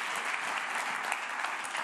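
Dense, continuous applause fills a mission control room after the Soyuz VS19 launch carrying the MetOp-C satellite, many hands clapping steadily and close throughout.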